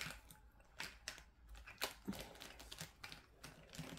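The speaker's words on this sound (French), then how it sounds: "Je vais gommer." Pencil writing on paper is rubbed out with an eraser in quick scratchy back-and-forth strokes, close and soft, with brief pauses between bursts.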